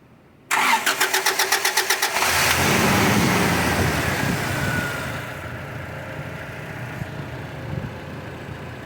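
A Toyota Hilux engine, just back together after a valve cover gasket change, cranks with a rapid rhythmic whir for a couple of seconds, catches and roars up, then settles into a steady idle.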